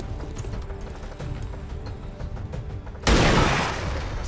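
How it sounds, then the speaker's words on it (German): Gunfire in the video game XCOM 2: after a quieter stretch of game ambience, a single sudden, loud shot bursts in near the end and rings out briefly. "Sauber Schuss."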